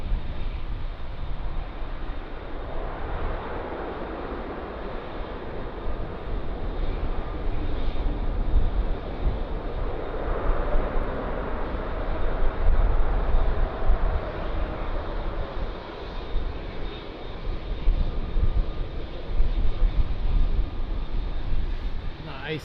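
Boeing 777 airliner at Lisbon Airport, a steady broad engine rumble and roar building and swelling over about twenty seconds, fairly distant, with faint radio chatter underneath.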